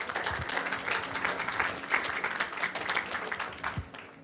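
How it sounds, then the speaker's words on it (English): Wedding guests give a round of applause at a hotel reception, steady clapping from a room full of people, moderately distant and fairly quiet, continuing for several seconds. "I'd like to give you a round of applause from us."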